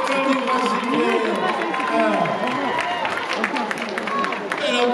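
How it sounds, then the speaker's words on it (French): A crowd applauding a school group at a roadside race event around the ramparts of Avignon, with steady clapping and cheering mixed into crowd chatter while an announcer speaks over it. "Allez, on les applaudit, s'il vous plaît."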